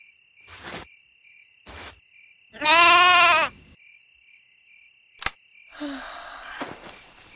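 A single sheep bleats loudly with a wavering cry, set among short bursts of other farmyard sounds and a steady high insect-like drone.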